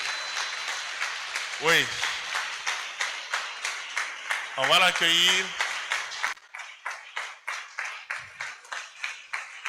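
An audience at a youth conference-debate claps in a brisk, rhythmic pattern to welcome a speaker. Voices call out over the clapping at times, and a couple of tonal chimes ring through the steady beat.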